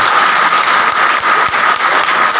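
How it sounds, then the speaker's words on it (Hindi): A roomful of people at a motivational gathering in Ghazipur gives new members loud, dense applause, a close and continuous wash of clapping with no talk over it. "हम सब मिलकर बहुत जोरदार तालियों के साथ स्वागत करें।"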